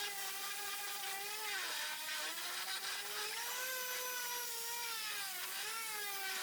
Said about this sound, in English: give it a blast with the random orbital sander